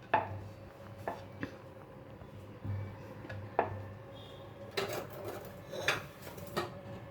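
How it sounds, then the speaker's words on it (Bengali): A rolled log of red-atta aloo paratha dough is cut into paratha-sized pieces. There are about eight or nine separate, faint knife knocks against a board, spaced irregularly with quiet gaps. "এবার পরোটার সাইজে এগুলোকে কেটে নেব।"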